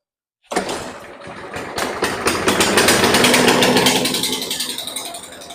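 A push lawn mower, previously flooded because its spark plug was not fully seated, catches and roars to life, then runs loud and rough with a rapid, uneven chugging close by.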